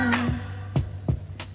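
Short excerpt of a soul record, with a sustained tone and a few sharp percussive hits spaced about a third of a second apart, heard alone.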